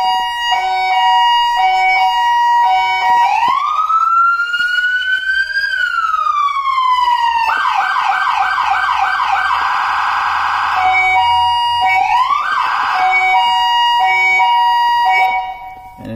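A Federal Signal SSP3000A emergency vehicle siren steps through loud cycling tones: rising and falling wails, a fast yelp and sharp piercing phases, close and continuous with no talking.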